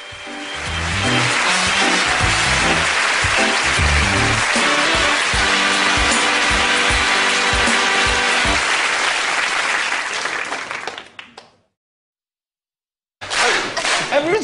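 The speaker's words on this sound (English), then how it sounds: "Everyone started clapping along." A studio audience on a Children in Need fundraising party show claps along loudly in a steady rhythmic beat with cheering mixed in. The sound breaks off abruptly near the end, then returns briefly.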